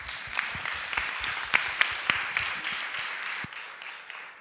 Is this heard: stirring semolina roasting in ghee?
no